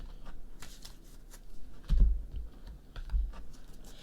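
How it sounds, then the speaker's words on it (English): Tarot cards are shuffled by hand in steady riffling and sliding bursts, with two louder, fuller shuffles partway through, close and clear with no talking. "Sure, let's keep shuffling."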